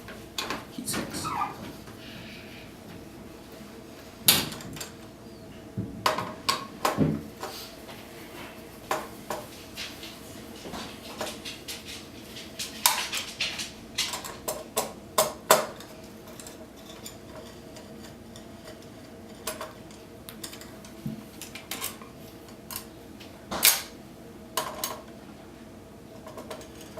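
Screws are removed from the heat sinks of a PS3 console, giving scattered small clicks, ticks and metallic taps at close range over a quiet background.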